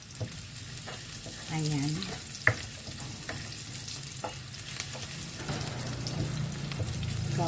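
Garlic frying in a little cooking oil in a pan, a steady sizzle with occasional stirring scrapes close by, and a brief spoken word.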